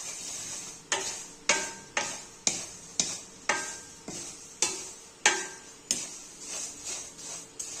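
Poha frying in a pan is stirred in a steady rhythm, each sweep bringing a scraping swish over a constant sizzle, about one stroke per second and close by.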